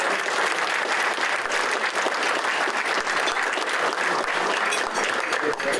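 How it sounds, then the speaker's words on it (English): Sustained applause from an audience at an annual meeting and awards night, honoring elected officials; dense, steady clapping at full volume throughout with no gaps. "We want to give you a round of applause too."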